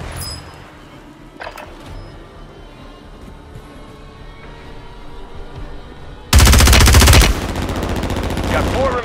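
Enemy gunfire in a Call of Duty-style Resurgence battle royale match: a sudden loud, close burst of rapid automatic shots erupts after quieter game ambience with faint chatter, then continuing shooting and noise follow.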